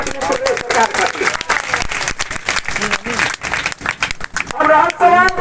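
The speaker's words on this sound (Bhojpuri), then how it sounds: "तो एक बार जोरदार ताली अपनी प्रदेश सरकार खातिर" Audience applause for the state government at a public gathering, loud dense clapping from a crowd that swells and fades, mixed with voices.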